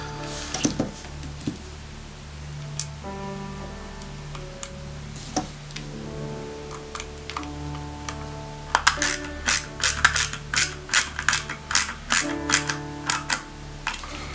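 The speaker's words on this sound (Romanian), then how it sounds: "Voi adăuga șrubelul acesta." Small screws are driven into an Eaglemoss Spy Robot model kit, giving soft ratcheting clicks and ticks, first sparse and faint, then a denser run of quick close clicks toward the end.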